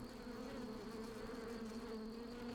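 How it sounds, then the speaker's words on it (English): A steady, faint insect-like buzzing made by a Spriggan, a tree creature in the Skyrim video game, droning without a break. "one to replace the classic buzzing sound"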